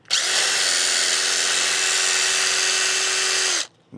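A DeWalt cordless drill fitting wheel locks onto off-road vehicle tires runs in one steady, loud, high whine for about three and a half seconds, then cuts off abruptly.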